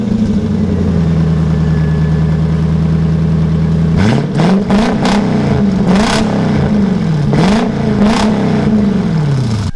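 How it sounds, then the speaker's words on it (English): A 4-liter Toyota 1UZ-FE V8 with open headers idles loudly and steadily, then revs hard several times, each burst rising sharply and falling back to a rough, rumbling idle. "This is a 4-liter Toyota V8"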